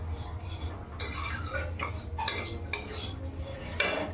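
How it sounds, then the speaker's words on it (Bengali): Vermicelli frying in a pan while a metal spoon scrapes and stirs it, with repeated clinks against the pan over a low steady sizzle and no talk. "এই যে সিমুইটা ভাজছি"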